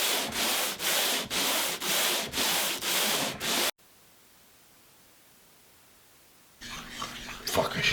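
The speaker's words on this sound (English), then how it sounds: "you just need a little sweat, blood, and tears and some sandpaper and take them down" Sandpaper worked by hand across a painted interior wall in about six rhythmic back-and-forth strokes, a close, loud scratchy hiss, then a pause before fainter shuffling noises.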